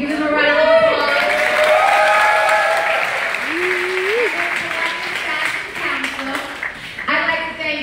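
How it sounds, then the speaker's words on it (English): An audience applauds at a summer fashion social in the Columbus Museum of Art, steady dense clapping filling the room for several seconds while a voice speaks over it. "Give them a round of applause."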